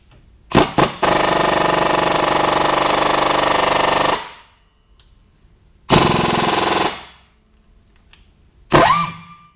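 A power tool, likely an impact wrench, removes the caliper bracket bolts on a Tahoe during a hub change. It gives a couple of short bursts, one long loud hammering run, then two more shorter rattling bursts, all close up.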